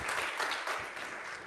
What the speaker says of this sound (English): A round of applause for us,